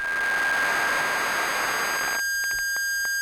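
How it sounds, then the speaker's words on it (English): A Knots card on a Music Thing Workshop System giving a dense hiss of high-frequency noise with a thin steady tone above it, which cuts off abruptly near the end, leaving a few sharp clicks. "at high frequency, you get a kind of noise"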